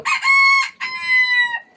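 Two loud, close crows from an Egyptian Fayoumi rooster on a rooftop garden, each a strained, drawn-out call that rises and trails off.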